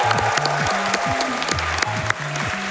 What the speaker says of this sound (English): Give it up for PangaeaPanga